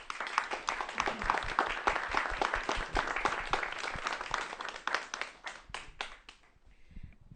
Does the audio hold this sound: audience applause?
yes